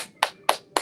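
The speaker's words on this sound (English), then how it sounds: "Yeah, we can clap that." Three crisp hand claps, close and evenly spaced, with near silence between them.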